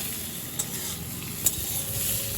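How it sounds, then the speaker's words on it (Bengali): Pointed gourd fries in a pan over a medium-high flame, giving a steady, moderate sizzle with a couple of faint clicks from stirring and no voices. "এখন পটলটা একটু ভাজা ভাজা করে নেব"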